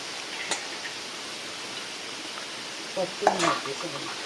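Banana flower vegetable mixture with garam masala and chana being stirred in a hot pan, a quiet steady sizzle broken by a couple of soft scraping stirs and clinks near the end.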